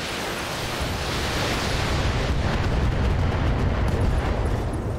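Precision-strike explosions slam into a mech's shoulder in the turn-based game Battletech, a loud, dense barrage of rumbling blasts and bursts that carries on for several seconds without any voice.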